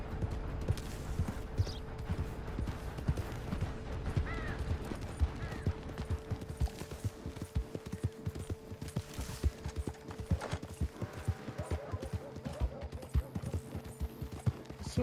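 Horse hooves clip-clopping in the video game Red Dead Redemption 2 Online: a steady, continuous trot of close, rhythmic hoofbeats, with brief faint in-game sounds over the top.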